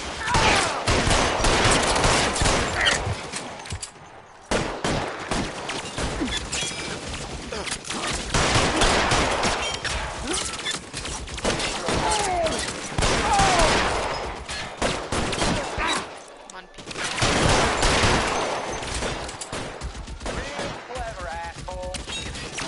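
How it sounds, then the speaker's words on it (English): Gunfire in the video game L.A. Noire, with dense bursts of rapid shots and fusillades close and loud, broken by a few brief pauses and mixed with scattered game voices. "Lay down some covering fire."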